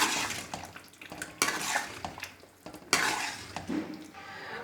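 Beef liver masala with ground cumin, coriander and fresh herbs is stirred in a pan: repeated loud scrapes and clanks of a spoon against metal over a soft background sizzle.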